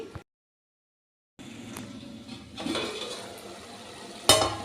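A pot of home-style sambar is stirred with a spoon scraping and clattering against the sides, then covered with a lid that lands in a sharp, close clink near the end, with a short silent gap early on.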